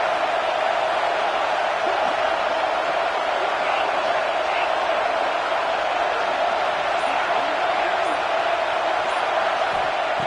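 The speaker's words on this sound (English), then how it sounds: "listen to this crowd noise. This stadium is vibrating." A packed college football stadium crowd roars in a dense, unbroken wash of noise at a steady, loud level throughout.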